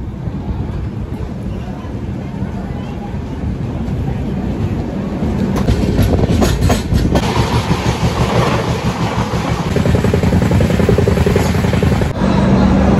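The 13151 Jammu Tawi Express pulls out of Dhanbad, a steady rumbling roll of wheels on rails that grows louder and heavier, with rhythmic clatter heard from inside the coach.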